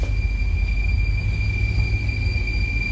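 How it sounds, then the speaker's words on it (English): A train rolls past in Yuma, Arizona with a steady, heavy rumble and a thin, sustained high-pitched wheel squeal running throughout. "You hear the train coming through."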